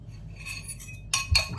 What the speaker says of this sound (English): So now I'm going to beat my egg and add it.